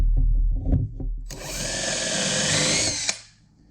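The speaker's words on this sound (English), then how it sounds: "Now I need to countersink this one right here." A power drill countersinks a screw hole, a short whirring bite that spins up after a few handling knocks, holds for under two seconds close up, then winds down.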